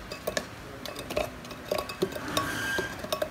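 A spatula scrapes down the sides of a blender jar holding Jamaican peanut porridge ingredients, giving irregular close scrapes, taps and clinks.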